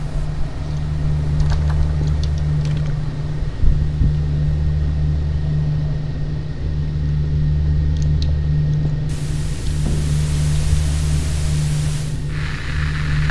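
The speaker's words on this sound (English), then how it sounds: "There is a helicopter patrolling the area outside this hospital as we speak." A helicopter patrols outside a hospital in the horror video game Nightmare House 2, heard as a steady, heavy low-pitched rotor drone that holds constant throughout, with a brighter hiss rising near the end.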